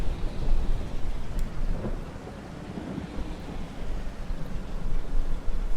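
Steady rain with a low rolling rumble of thunder in the farming game Farming Simulator 22, a continuous wash of sound with no speech.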